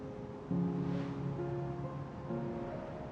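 Soft, steady water washing and lapping in Final Fantasy XIV, a continuous low wash with faint tonal ambient music layered over it, no speech.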